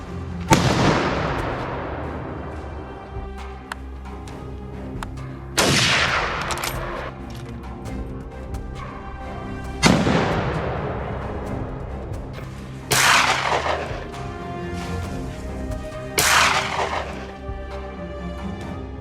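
Five loud, sharp .308 rifle shots ring out during a wild hog hunt, each with a lingering echo that tails off. The shots come at irregular intervals a few seconds apart.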